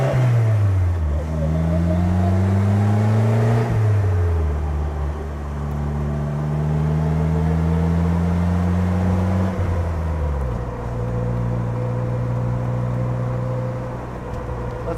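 A 2017 Polaris Slingshot engine revs up through several gears as the clutch is released, pitch climbing and dropping at each shift, loud and close, with the engine note continuing steadily afterward.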